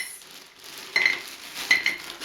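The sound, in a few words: stones clinking into a glass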